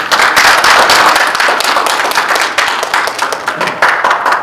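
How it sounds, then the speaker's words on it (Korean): Applause from a seated audience at an academic conference session welcomes the moderator, with dense, loud, close clapping sustained evenly throughout. "오늘 큰 박수로 맞이해주시기 바랍니다."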